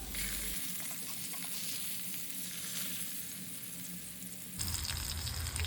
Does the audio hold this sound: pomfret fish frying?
yes